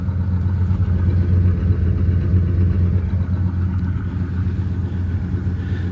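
A 1978 GMC C15 pickup truck engine idles steadily with a deep, continuous low rumble, running close by and alone without any talk.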